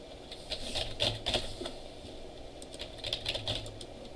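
Keystrokes on a computer keyboard typing into a plain text box, with clusters of quick clicks and a short pause between them, soft and close over faint room noise, without talk.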